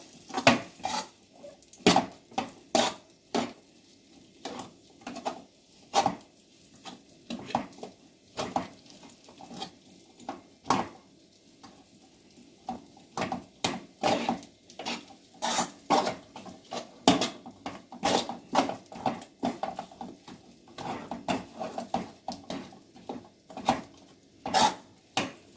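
A spoon stirs thick khajur pak, a date sweet, in a pan over a low flame, giving a steady run of close, sharp clinks and scrapes of metal on metal with no talking.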